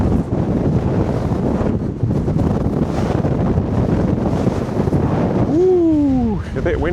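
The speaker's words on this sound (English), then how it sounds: "Ooh, a bit windy up here." Strong wind on an exposed hilltop path near Jacob's Ladder buffets the microphone with a constant roaring rush, and a brief whistling tone sweeps through near the end.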